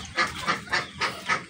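Chinese ducks and chickens on a rooftop farm give five rhythmic, nasal honking quacks close by, evenly spaced over a second and a half.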